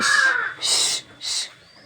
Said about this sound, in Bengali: এই কাকগুলো খুব চিল্লে হালা করতেছে